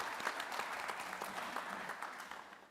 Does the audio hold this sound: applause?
yes